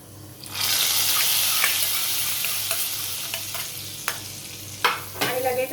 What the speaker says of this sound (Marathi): आता आपण जी तडका करून घेतलाय तो ह्या दाल खिचडीच्या वरून घालणार आहोत.